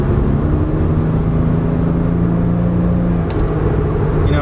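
A twin-turbo Toyota Supra with an automatic gearbox accelerates at half throttle, giving a steady, loud engine drone and rumble from inside the car without a break, with no voices.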